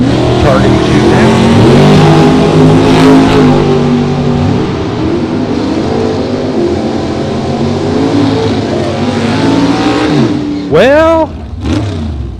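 A 1964 Corvette at a Texas drag race, heard in a loud, sustained engine roar with layered revving tones, ending in sharp rev blips near the close; a commentator speaks briefly over it.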